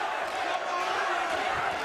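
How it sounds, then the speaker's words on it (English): A home crowd at a boxing match cheers and roars for its fighter, a steady, dense crowd noise that fills the arena without pause, with commentary over it. "Home crowd just beginning to try and get behind their man"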